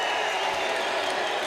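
A fight crowd at a Reality Fighting welterweight title bout cheers and applauds loudly and continuously, a dense roar of clapping and voices filling the arena.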